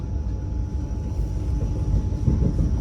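Steady low rumble and rattle inside a moving Vande Bharat Express carriage on the Panvel to Kankavli route, a continuous drone with a faint high whine running throughout.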